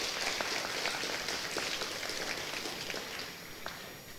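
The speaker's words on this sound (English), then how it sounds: "a round of applause for these students" Steady applause from an audience at a school promotion ceremony honoring award-winning students, a dense continuous patter of many hands clapping that holds evenly and fades slightly toward the end.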